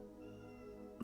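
A house cat meows once, a short, fairly close cry near the end over a quiet indoor background.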